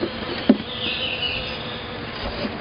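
Honeybees buzz steadily around an open hive during an inspection, a continuous close drone with a brief knock of handling partway through.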